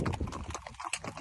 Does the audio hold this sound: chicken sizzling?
no